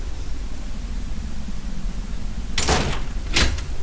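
Two short rattling knocks of a locked door being tried in the game HetaOni, a brief bump then another under a steady hiss of background noise, with no talking.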